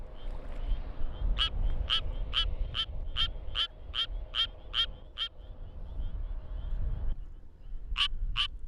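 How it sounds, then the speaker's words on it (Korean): A Suwon tree frog calls in a fast series of sharp, evenly spaced chirps, pauses, then starts again, loud and close over a low outdoor rumble. "드디어 수원 청개구리의 노래가 시작됐다."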